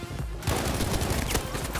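Rapid bursts of gunfire crackle continuously after a short quiet start, dense and loud, in a Battlefield V firefight.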